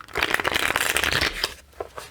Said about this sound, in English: So I'm just going to do a good old shuffle.